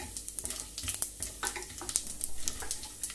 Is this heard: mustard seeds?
yes